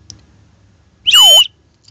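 A single sharp, shrill whistle blast, loud and close, lasting about half a second amid near silence.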